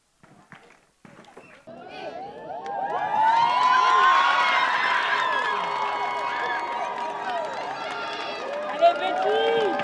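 A beauty pageant crowd erupts into loud cheering, shrieks and high-pitched shouting that swell up after a quiet start with a few scattered voices, then hold at a sustained roar with one sharper scream near the end.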